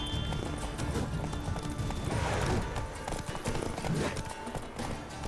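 Rapid hoofbeats of a galloping horse in The Witcher 3: Wild Hunt pound steadily throughout, dense and close, with a brief whinny mixed into the busy background.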